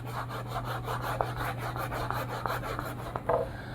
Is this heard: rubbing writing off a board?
yes